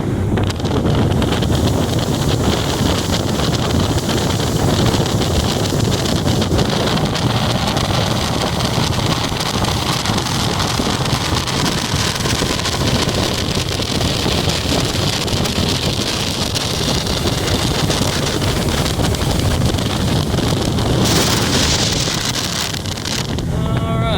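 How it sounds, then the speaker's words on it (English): A 2022 Tahoe 1950 deck boat motor roars steadily under power at about 43 mph, buried in heavy wind rush and water noise across the whole stretch. "Show y'all the motor running under power here."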